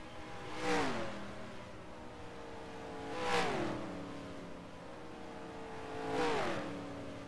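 NASCAR stock cars roar past one at a time down the front stretch in the NR2003 racing game, three loud engine passes about three seconds apart, each rising then dropping in pitch with a Doppler swoop.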